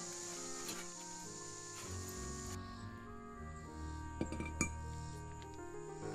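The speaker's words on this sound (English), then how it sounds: "Note the position of the bracket as it is removed." A front brake caliper bracket being removed from a 2015 Buick Encore, faint metallic clinks and light knocks of parts being handled, close and sparse.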